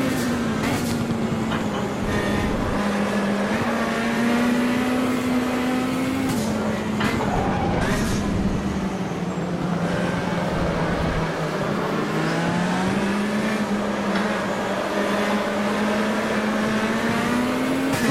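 Race car engine in the Automobilista racing game, loud and continuous, its revs rising and falling through gear changes and corners with steady tonal harmonics throughout.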